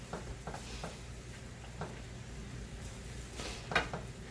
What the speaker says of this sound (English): So now we're just going to stir this for a few minutes.